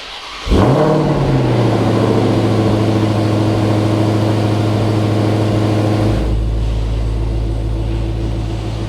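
A Dodge Demon 170 engine starts with a quick rev, then settles into a steady, loud hum on a test drive, shifting to a lower drone near the end.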